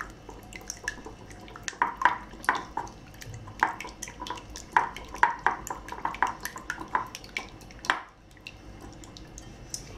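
Egg with cardamom powder beaten in a bowl for a Bengali egg pitha, irregular wet clicking and tapping of a utensil against the bowl, close and fairly quiet, in quick uneven bursts with no talking.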